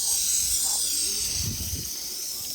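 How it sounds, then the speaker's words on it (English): Water sprays down a freshly caught fish fillet on a deep-sea fishing boat in the Bahamas, a steady close hiss of spray with a soft low thump partway through. "Doing a nice spray down"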